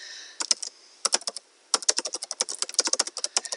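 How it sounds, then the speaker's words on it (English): Bursts of typing on a computer keyboard, close and crisp, with quick irregular keystrokes separated by short pauses, no talking. "I'm typing in just the name of the location because our drivers know exactly where that is."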